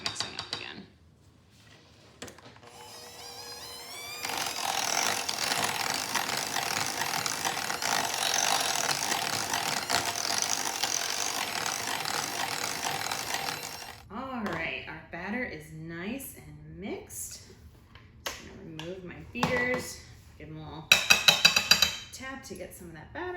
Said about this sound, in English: then we'll give it one last mix on the mixer